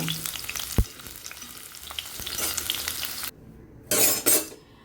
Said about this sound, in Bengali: কলাটাও কিন্তু আমার ভাজা হয়ে এসেছে, এবার এগুলোকেও আমি তুলে নেব